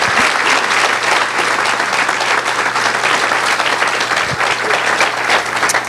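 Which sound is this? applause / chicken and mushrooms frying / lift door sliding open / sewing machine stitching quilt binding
applause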